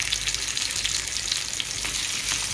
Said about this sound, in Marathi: मासा मला पूर्ण बाजूने भाजला गेला पाहिजे चांगला